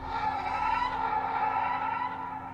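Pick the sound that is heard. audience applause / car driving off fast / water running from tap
car driving off fast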